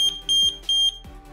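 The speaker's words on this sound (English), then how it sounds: "if I throw in some water on this sensor, it triggers a loud alarm like this." A Third Reality Zigbee water leak sensor sets off its alarm after water touches it, giving loud, close, high-pitched beeps in quick pulses with short gaps and a faint click between them.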